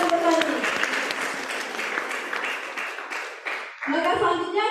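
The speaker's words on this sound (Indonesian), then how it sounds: "Mari kita beri tepuk tangan yang meriah kepada kedua tim yang sedang bertanding." Applause from the audience at the grand final of a national constitutional debate competition honors both debate teams, a dense sustained crowd clapping that dips briefly near the end, then swells back just as full.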